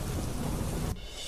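Heavy downpour during a storm that floods the Valmiki river into homes at Valod, heard as a dense, loud, steady roar of rain that drops off sharply near the end.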